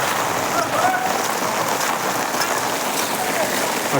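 Steady rain patters densely on surfaces across a traditional village market in Nagarkonda, a constant close hiss with faint voices in the background.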